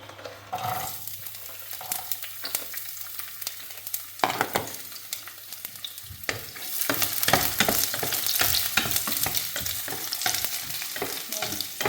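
Garlic hits hot oil in a pan for a Kerala-style beetroot pickle, with a loud, close sizzle and frequent clattering stirs that grow busier toward the end. Nobody speaks.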